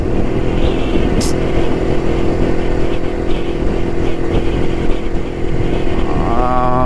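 A vintage Jawa 250cc motorcycle rides steadily along an open road, its engine droning loud and continuous with wind rush throughout, with a brief high whine near the start.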